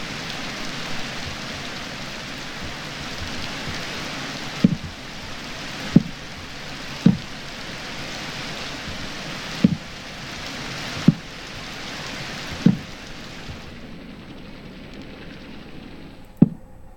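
Minecraft rain hisses steadily at moderate volume, broken by periodic sharp in-game clicks, then cuts off near the end, leaving near silence.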